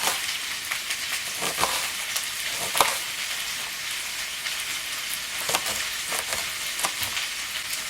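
Potatoes fry in a pan, browning on the bottom, with a dense, steady crackling sizzle and a few sharper scrapes or pops scattered throughout.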